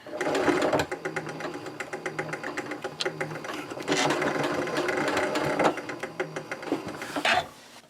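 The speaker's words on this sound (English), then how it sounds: "Now I'll baste the two sides of the zipper together" A sewing machine runs in bursts while basting and back-stitching over a zipper, its rapid needle chatter starting and stopping several times, close and loud.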